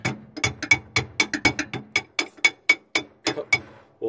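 Metal pry bar knocking and levering a front shock absorber into place on a Ford F53 motorhome chassis, a fast run of about twenty sharp, ringing taps and clanks, close and loud, with no talking.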